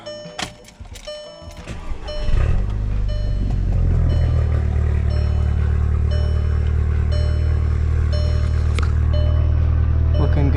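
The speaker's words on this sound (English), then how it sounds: "let's start her up" A Volkswagen MK6 GTI with a newly installed Turbosmart diverter valve cranks and starts after a couple of seconds of clatter, then settles into a steady, close idle that continues to the end.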